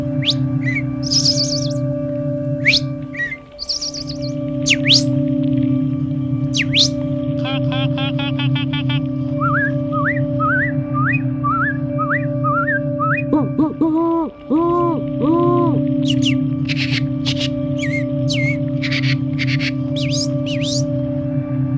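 A person whistles an imitation of a rufous-sided towhee's 'drink your tea' song, in short rising phrases and repeated notes over a steady low hum, with scattered real bird chirps around it.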